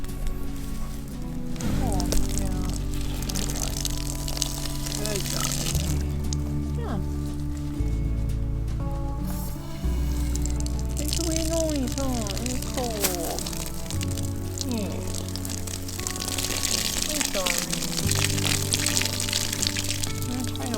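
A garden hose sprays water over a mustang, producing a steady close splashing and pattering that swells and eases as the stream moves, while people talk calmly throughout.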